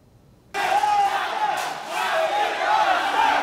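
An angry protest crowd at the Hong Kong representative office in Taipei bursts into loud, sustained shouting and chanting, many voices roaring together close by.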